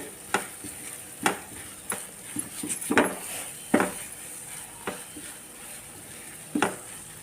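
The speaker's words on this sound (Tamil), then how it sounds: "இதுக்கு மேலாப்பில் நல்ல நல்லெண்ணெய் ஊற்றி இன்னும் கொஞ்சம் நல்லா வதக்கிட்டு" Pirandai thokku is sautéed in sesame oil, a low sizzle under repeated spoon scrapes and knocks against the pan at an irregular, unhurried pace.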